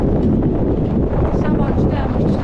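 Strong wind blowing outdoors in Korea, a loud, steady buffeting roar across the microphone with rustling undertones, a voice briefly audible beneath it.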